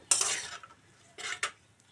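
Potato and soybean chunks being stir-fried with ginger-garlic paste in a pan give two short, faint scraping bursts of a spatula against the pan over a low background.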